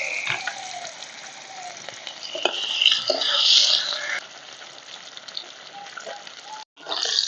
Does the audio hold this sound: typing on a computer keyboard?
no